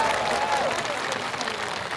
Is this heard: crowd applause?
yes